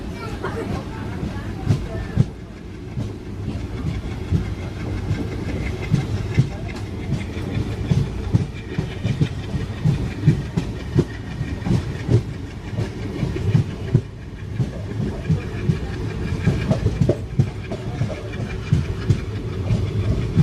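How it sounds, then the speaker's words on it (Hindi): Train on the Jaipur to Jaisalmer Ranikhet special running toward Marwar Junction, a steady low rumble with wheel clatter and a faint hiss throughout, people talking over it. "तो दोस्तों अब अपनी ट्रेन मारवाड़ जंक्शन पर पहुंच गई है।"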